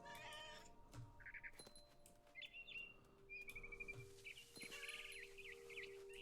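A cat in a game meows several times, short and fairly clear, mixed with bright bird chirps over a quiet ambient backdrop.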